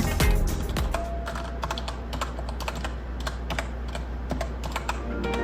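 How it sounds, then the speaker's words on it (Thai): Clicky typing close up on an Actto Retro B705 keyboard, a rapid, irregular run of sharp key presses with a low steady hum underneath. "เดี๋ยวให้ฟังเสียงคีย์บอร์ดกันชัดๆอีกทีนะคะ"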